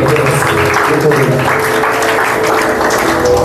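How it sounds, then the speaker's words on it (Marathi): A crowd at a church youth meeting claps steadily, a loud, dense patter of many hands filling the space without pause, with some voices mixed into the applause. "टाळी व्हायला पाहिजे"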